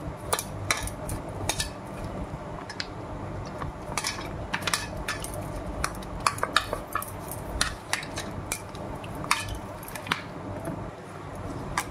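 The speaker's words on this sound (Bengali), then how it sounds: "এবার ব্যাটারটা আমি জল দিয়ে গুলে নেব" A utensil clinks and scrapes against a bowl as a bread-snack batter of flour, salt and water is stirred, with irregular sharp taps over a soft background hum.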